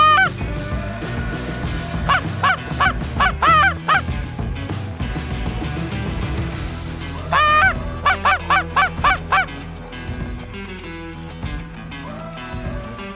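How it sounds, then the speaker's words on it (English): Flock of geese honking overhead in flight during a North Dakota goose hunt: two bursts of rapid, repeated calls, one around two to four seconds and another around seven to nine, loud and fairly close over steady outdoor background. "More geese up."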